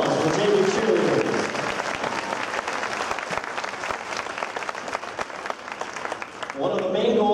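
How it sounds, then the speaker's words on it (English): A crowd applauding the JV cheerleaders at a high school marching band show, steady clapping filling the space with speaking voices over it at the start and end. "How about another nice round of applause for JV cheerleaders?"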